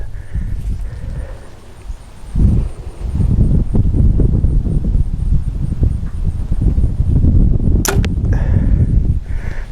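Archery bow loosing an arrow during deer season practice, a sharp snap and quick thwack on the target near eight seconds, set against outdoor rustling and a low steady wind rumble.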